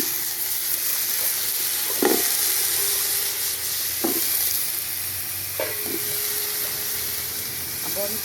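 Potatoes stirred into a pot of tomatoes frying over a village cooking fire, a steady sizzle with a few clear knocks of the stirring spoon against the pot at intervals.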